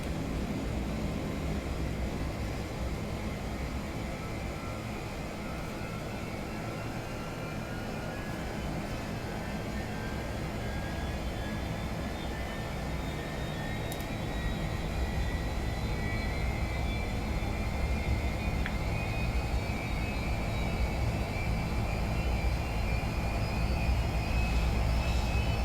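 Engine one of a Boeing C-17 Globemaster III spools up in Flight Simulator 2024, a steady loud jet roar with a whine that rises slowly and keeps building throughout.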